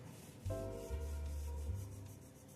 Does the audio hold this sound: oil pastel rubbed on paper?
yes